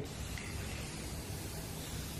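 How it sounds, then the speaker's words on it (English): A steady, close hiss from a spray paint can as paint is sprayed onto carpet indoors, continuous and even for the full stretch, with no voices over it. "With spray paint."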